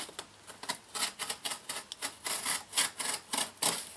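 A knife slices through the sides of a cardboard box holding a DJI Phantom 4, a quick run of short scraping cuts in an irregular rhythm, close and fairly quiet, with no talk.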